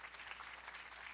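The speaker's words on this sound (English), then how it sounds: "let's clap for that" A brief, soft burst of audience clapping at a talk on women's fitness, a dense steady patter heard from a distance with no voices over it.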